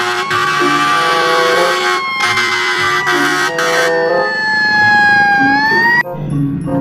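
A toy fire truck's electronic siren wails loudly and close, a bright synthetic tone holding steady then sweeping up and down, with brief breaks between bursts.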